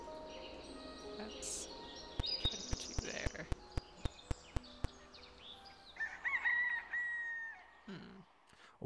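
Cartoonish bird crowing calls from the Gobliiins adventure video game, several bright warbling cries near the end after a run of sharp clicks, with game effects alongside.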